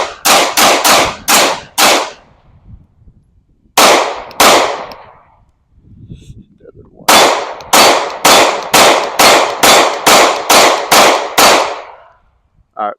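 Glock 45 pistol fired up close, loud cracks in quick bursts: a fast group of four, a pair, then a long rapid string of about ten shots with short echoing tails.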